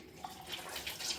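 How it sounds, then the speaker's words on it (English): Tap water runs steadily while a face flannel is rinsed out, a soft, continuous splashing wash close by with no talking. "Rinse that out a bit."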